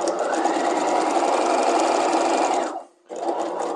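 An electric sewing machine running fast with small stitches off the tip of a dart on a dress skirt, a loud steady whir that briefly stops and then restarts.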